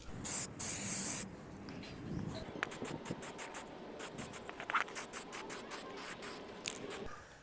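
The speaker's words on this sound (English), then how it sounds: "we're going to give it a spray paint" Bursts of hissing spray paint from a can, close by, starting with a long steady blast then continuing in short repeated squirts with brief pauses between them, while painting a part of a crashed Mercedes CLA.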